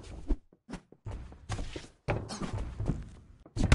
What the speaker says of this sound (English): he is throwing some huge kicks here